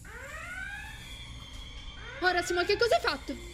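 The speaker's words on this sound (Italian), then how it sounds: "per sbaglio ho azionato l'allarme di emergenza" Electronic emergency alarm set off by accident, sweeping rising tones followed by a burst of louder warbling beeps, with voices speaking underneath.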